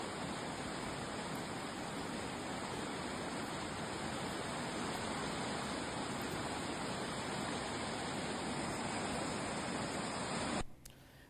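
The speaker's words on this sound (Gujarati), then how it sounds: "પાલનપુરમાં ધોધમાર વરસાદ છે બે કલાકમાં અંદાજે એક ઇંચથી વધુ વરસાદ થયો છે" Loud, steady rush of heavy monsoon rain and flowing floodwater in Palanpur, unbroken for about ten seconds before cutting off abruptly.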